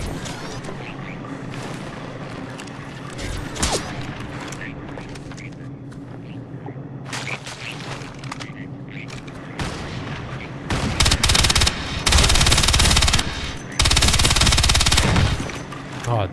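Video game gunfire, repeated sharp shots and bursts scattered throughout, growing into loud dense volleys near the end, with a player's voice talking in between.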